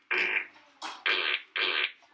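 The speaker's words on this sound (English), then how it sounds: "I'm gonna do the fart piano" A fart piano phone app plays cartoonish fart sound effects as a little song: four loud, sputtering blasts, each about a third to half a second long, coming in quick succession with short gaps between them.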